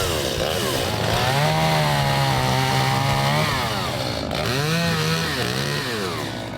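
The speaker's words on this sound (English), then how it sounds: "Rob Gibb stepped in with his chainsaw." A chainsaw cuts firewood up close, loud and steady, its engine pitch rising and falling as the blade bites into the wood.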